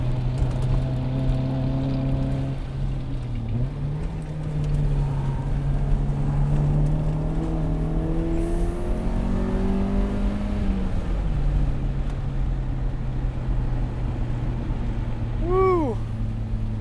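A Mazda Miata with a grip setup is driven hard on a track: a continuous engine drone holds close and loud, its pitch rising and dipping through gear changes and corners, with a brief tire squeal near the end.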